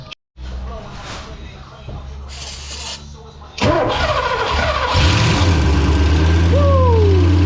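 Porsche 928 engine cranking after sitting more than ten years, a starter churn that catches into a loud rough idle, then a few revs, close up, with people talking around it.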